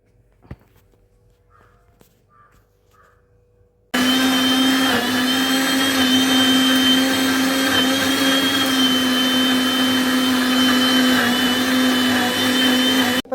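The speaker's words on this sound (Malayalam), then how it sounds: "ഇതൊന്ന് മിക്സിയിൽ അടിച്ചെടുക്കാം നന്നായിട്ട്" A mixer grinder blends papaya juice: after about four seconds of near silence it starts abruptly into a loud, steady motor whine that runs unbroken to the end.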